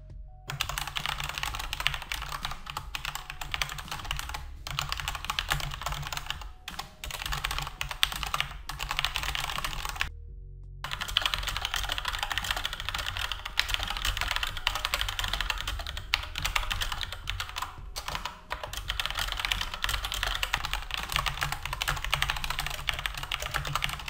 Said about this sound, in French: les interrupteurs mécaniques sont souvent bruyants